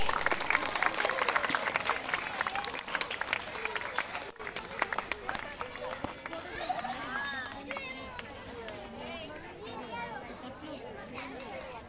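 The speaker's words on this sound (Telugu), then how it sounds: "అది చప్పట్లు కొట్టండి." An audience at a Women's Day gathering claps loudly for a mayor, a thick burst of applause at the start that gradually thins while voices and chatter rise over it.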